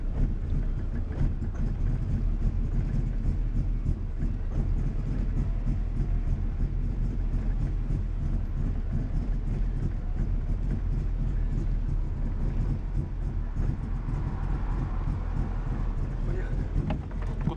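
A VAZ 2112 car pulls away and drives. The engine and road rumble stay low and continuous, with quick rhythmic ticking throughout and muffled voices inside the cabin.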